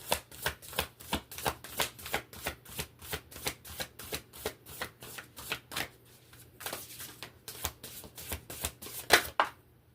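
Tarot cards are shuffled repeatedly in quick, crisp riffles, a steady rhythmic flutter close by, pausing briefly before resuming.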